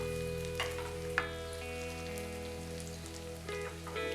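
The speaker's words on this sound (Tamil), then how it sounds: "ஒரு பேனில் கொஞ்சம் எண்ணெய் சேர்த்து அது சூடானதுக்கு அப்புறம் நாங்கள் க்ளீன் பண்ணி வச்சுருக்கிற கார்லிக் அண்ட் வெங்காயம் இது ரெண்டையும் கொஞ்சம் நேரம் லைட்டாக நாங்கள் வதக்க போகிறோம்" Garlic and onion sizzle gently in hot oil in a pan, a soft continuous crackle with occasional stirring scrapes, over a steady low background hum.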